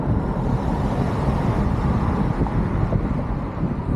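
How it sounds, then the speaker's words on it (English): Trucks rumble past in city traffic near the White House, a steady broadband roar of engines and tires with no pauses, fairly loud and close. "Trucks."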